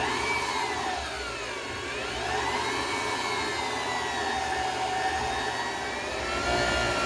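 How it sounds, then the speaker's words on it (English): A stand mixer runs steadily on melted butter, egg and milk batter, a continuous close whirring motor drone with a wavering pitch, no voices. "In my stand-up mixer, I have put the melted butter, the egg, and the milk."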